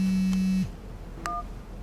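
A phone signals an incoming call with a steady electronic tone that cuts off after about half a second, followed by a brief higher beep, in a quiet room.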